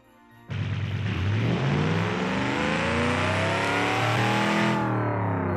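Supercharged car engine in BeamNG.Drive, revving up from idle into a loud, rising roar with a climbing supercharger whine, held high for several seconds before easing off; close and alone.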